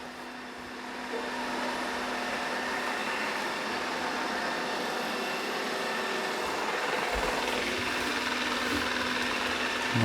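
A Narwal Freo Z Ultra robot vacuum running on its cleaning lap, a steady mechanical hum and whir at moderate level that continues for the whole stretch, with no talk.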